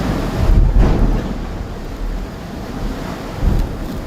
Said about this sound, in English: just a lot of spray and a lot of kind of like bouncing off those waves.